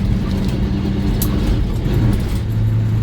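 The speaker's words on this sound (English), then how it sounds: "Once again, I'll go down to low. We'll just throttle on." A CAT-powered truck throttles on in low gear, its diesel engine giving a loud, steady close rumble that builds slightly toward the end, with no one speaking.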